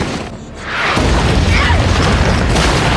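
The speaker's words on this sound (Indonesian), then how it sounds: "Berakhir dengan ledakan dinamit yang dilakukan oleh pemberontak." Rebels set off a dynamite explosion in a Rurouni Kenshin samurai anime scene: a loud, sustained boom and roaring rumble that swells after a brief lull and holds steadily to the end.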